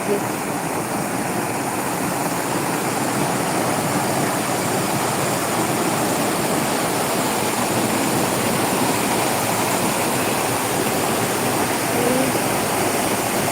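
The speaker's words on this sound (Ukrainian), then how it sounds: "Будемо насолоджуватися шумом води." A constant roar of rushing water fills the whole stretch, steady and loud, like a nearby waterfall or fast stream.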